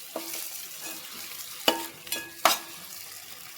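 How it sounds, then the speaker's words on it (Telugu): Curry leaves and coriander frying in a pan for a village-style egg curry, with a low steady sizzle and a few sharp scraping clicks of a spoon stirring, close and alone. "కరివేపాకు కొత్తిమీర వేసినాక కూడా బాగా కలపండి."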